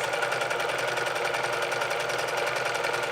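Sewing machine stitching a pillowcase dress sewn from bed sheets, a fast, even mechanical whir with a steady rapid needle pulse, close and continuous throughout, with no talking.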